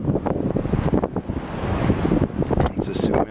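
Strong wind buffets the microphone outdoors, gusty, loud rumbling noise that rises and falls in surges.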